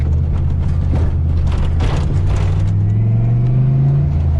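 A Fox Body car drives at close range with a loud, steady engine drone, and its pitch rises as it revs and accelerates.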